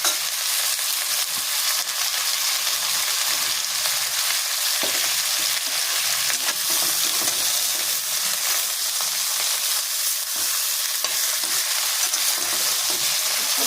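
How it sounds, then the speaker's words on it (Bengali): Drumstick pieces and chopped tomato fry in a hot pan with a loud, steady sizzle that crackles on without pause, close up and with no voices. "ভাজা ভাজা হলে ভালো লাগবে।"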